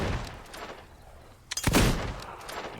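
One loud gunshot in the video game Fable 2 bursts out after a quieter stretch, a sharp crack with a rumbling tail that decays over about a second.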